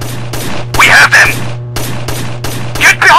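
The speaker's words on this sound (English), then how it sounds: "Under heavy fire!" Heavy gunfire in the Rainbow Six Vegas video game: loud, close bursts of automatic shots come in rapid clusters, with shouted game voices over a low steady hum.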